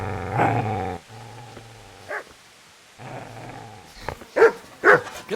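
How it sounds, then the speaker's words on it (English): A dog in the medieval game Kingdom Come: Deliverance lets out a long, close growl, then a gap before a run of sharp, loud barks near the end. "Get away, you mutt!"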